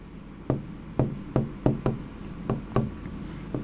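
Chalk or marker striking and scraping a board during a Class 11 chemistry lesson on the ideal gas equation, about eight sharp taps in a steady rhythm, close and fairly loud, with no talk.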